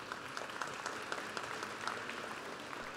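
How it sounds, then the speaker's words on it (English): A university engineering commencement audience applauds for the College of Engineering leadership, a steady, moderately distant wash of clapping from a large crowd with no talk. "Please give the College of Engineering leadership your applause."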